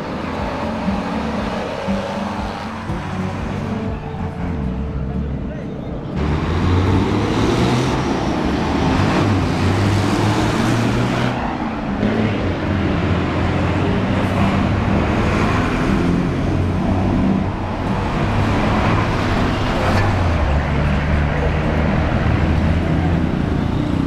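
Busy city street in Ecuador with a steady flow of cars, buses and trucks rumbling past close by, engines swelling and fading, under a voice talking throughout.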